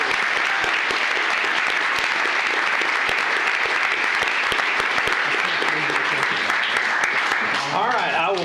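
An audience at a county commissioners court meeting applauds an employee honored for 40 years of service, dense sustained clapping that fills the room, with a voice rising near the end.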